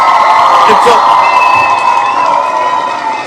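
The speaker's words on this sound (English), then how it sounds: "Let's go ahead and give a round of applause to Walker Bay." A political event crowd cheers and whoops loudly, with shouting voices blending into a sustained roar that fades slightly toward the end.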